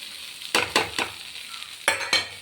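Ginger frying with salt, chili powder, turmeric and coriander powder for a Kerala sadya-style ginger curry. A pan simmers under several sharp, close scraping stir strokes, one after another, with no voices.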